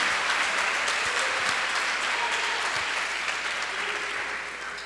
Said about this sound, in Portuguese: pode aplaudir, pode glorificar